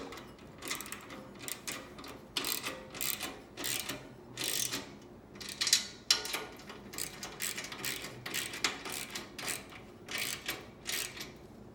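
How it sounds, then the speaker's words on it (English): Bolts being firmly snugged up on a swivel rocker during assembly, with a series of moderately quiet ratcheting click bursts in an uneven rhythm, nearby, with no voices. "Then you're going to firmly snug the bolts up."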